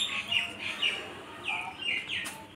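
Chicken chicks give a few faint, high peeping chirps in short bursts, soft and fairly close over quiet background noise.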